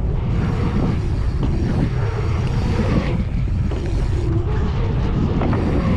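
Loud, steady roaring wind buffeting the microphone while riding through the berms of a bike trail, dense rumbling noise that fills the clip without a break.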